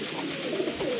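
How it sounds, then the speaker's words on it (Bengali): Giribaz pigeons give a soft, brief coo against a dense, noisy background, close but fairly faint. "যারা গিরিবাজ কবুতর পালন করেন তাদের জন্য কিন্তু খুবই ভালো মানের একটা জোড়া।"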